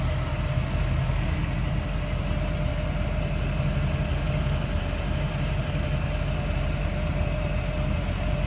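A 1957 Chevrolet 210 V8 engine idles steadily and smoothly, a continuous low rumble with no voices, even in loudness throughout.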